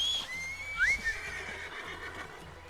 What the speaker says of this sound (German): Pferdli!